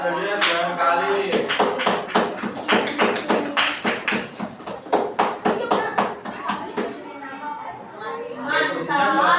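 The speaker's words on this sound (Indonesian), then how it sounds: "Oke, tepuk tangan untuk Violeta" Scattered clapping from students in a classroom, a ragged series of sharp claps that builds, then tapers off, with chatter and speech running underneath.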